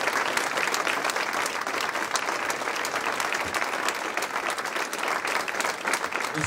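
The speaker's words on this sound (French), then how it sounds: "je voudrais qu'on les applaudisse" An audience at a town New Year's ceremony claps steadily and densely for several seconds, a continuous wash of applause with no pause, heard at a moderate distance.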